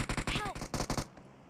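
Rapid gunfire in the mobile battle-royale game PUBG Mobile, a quick series of sharp close shots lasting about a second, with a voice speaking briefly over it.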